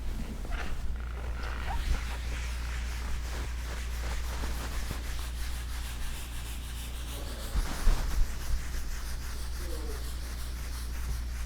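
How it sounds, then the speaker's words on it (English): A pad loaded with Odie's wood wax rubs back and forth across a wooden surface, giving soft, uneven scuffing strokes at close range over a low, steady background hum. "my pad is starting to run out of wax here because it's gliding easier"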